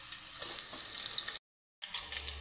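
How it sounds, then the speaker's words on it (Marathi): Thinly sliced medium onions fry in hot oil in a kadhai for Khandeshi masala khichdi, a steady bright sizzle with light stirring that cuts out briefly to silence midway, then resumes. "आता कांदे घालून घ्यायचे आहेत।"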